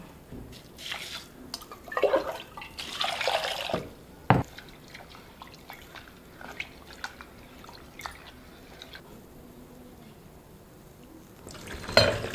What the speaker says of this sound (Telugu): ఇప్పుడు కందిపప్పుని శుభ్రం చేసుకుందాం